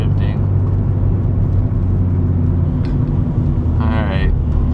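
Manual-transmission car rolling along in second gear, a steady low engine and road rumble filling the cabin throughout, with brief higher whirs near the end.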